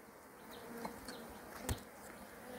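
Honey bees buzz steadily around a beehive tended by a beekeeper in Hưng Yên, a faint, continuous hum with a few louder insects passing close by.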